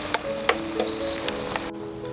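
Pork rib sauce reducing over low heat for a pumpkin rib rice, a soft, steady sizzle and bubbling with a few light pops and clicks, near and fairly quiet.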